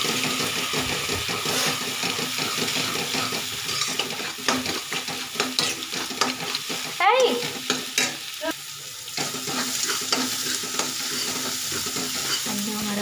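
An egg fries in a pan while a utensil stirs and scrapes it, producing steady close sizzling with repeated scraping strokes and clinks throughout, with no talking.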